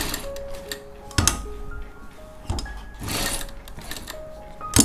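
A sewing machine stitching a frock jacket (koti) slowly, with soft close ticking and clicking, a few sharper knocks and short mechanical bursts, faint tones in the background, no talking.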